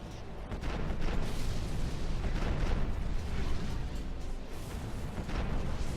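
Rapid rocket fire and explosions in Armored Core: For Answer roar in a dense, continuous barrage, loud throughout.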